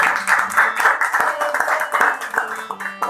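A congregation at an Assemblies of God Sunday service in Rawalpindi claps loudly, fairly close, with dense overlapping hand claps falling into a loose rhythm and lasting throughout.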